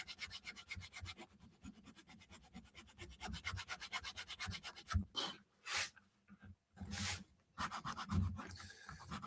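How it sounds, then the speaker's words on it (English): A small hand file scrapes a prop rifle greeble part in a shop, quick rhythmic rasping strokes in fast bursts, then a few slower separate strokes near the end, close and fairly quiet. "These little files, on the other hand, are kind of surgical."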